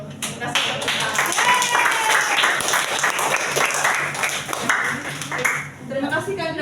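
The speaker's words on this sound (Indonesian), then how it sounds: "Kasih tepuk tangan." Students in a junior high classroom clap together in a lively burst of applause, with overlapping voices and a few chatty remarks running through it before it fades.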